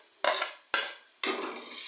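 Ginger garlic paste is stirred into spices frying in a pot for dhaba-style chana daal: three distinct scraping strokes of a spoon against the pan over a soft sizzle, the last stroke longer.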